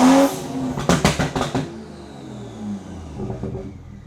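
A BMW G30 with an upgraded paddle-shifter steering wheel gives a loud engine burst followed by a quick rattling string of anti-lag pops, then settles to a lower idle rumble with a few softer crackles.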